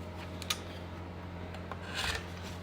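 Quilting fabric is cut for a quilt's top piece, heard as a few close, dry rasping snips and rubs over a low steady hum, with a longer scraping stroke near the end.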